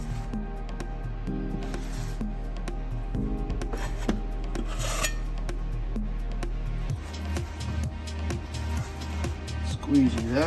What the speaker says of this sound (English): Squeegee that off the face of the tile.